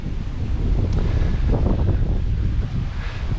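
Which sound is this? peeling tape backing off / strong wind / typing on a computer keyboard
strong wind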